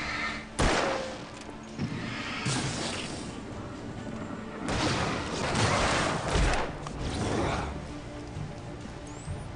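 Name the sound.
gunfire in the video game Alan Wake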